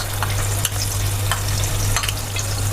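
A chutney and spice mixture hits hot oil for pav bhaji and sizzles loudly and evenly, with a few brief stirring clicks on top, close and with no voice.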